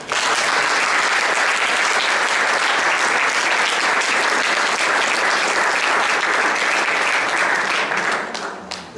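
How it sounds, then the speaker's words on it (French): A dense, loud burst of applause fills a dinner event hall as a crowd claps steadily for several seconds before it starts to thin out at the end. "je vous demande de l'applaudir encore une fois"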